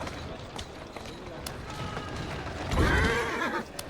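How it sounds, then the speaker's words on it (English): A horse whinnies in Assassin's Creed Syndicate, a loud, wavering neigh near the end over hoof clatter and game ambience, with a voice talking around it. "Who's a good horse?"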